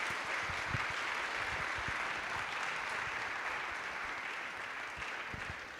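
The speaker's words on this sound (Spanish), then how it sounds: "Le damos una bienvenida con un aplauso fuerte a todos ellos." A church congregation claps in sustained, dense applause, steady and fairly even in loudness throughout, with no talking over it.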